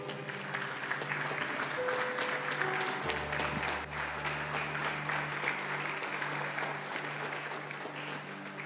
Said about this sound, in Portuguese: Fique em pé aplaudindo ao nome do Senhor.